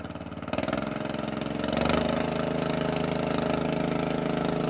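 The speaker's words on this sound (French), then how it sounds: "je vais essayer parce qu'il fait un bruit du diable ce tracteur." A tractor engine idles nearby with a steady, throbbing mechanical drone that rises slightly in intensity partway through, then holds a constant, rough rumble.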